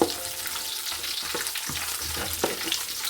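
Garlic fries in a pan over low heat with a steady soft crackle, broken by a few light scrapes and taps of a spoon stirring it.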